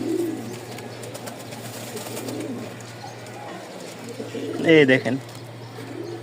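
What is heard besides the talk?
Giribaz pigeons cooing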